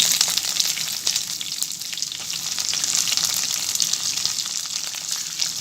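Chopped onions sizzle loudly and continuously in hot oil with curry leaves and chillies while cooking a sambar base, a dense, steady frying hiss with no pauses.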